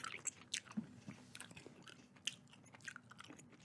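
Close, quiet gum chewing with wet smacks, squishy clicks and soft crunchy bites in an uneven steady rhythm, intimate and detailed.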